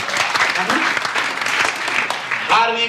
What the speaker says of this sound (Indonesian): Berikan tepuk tangan ya teman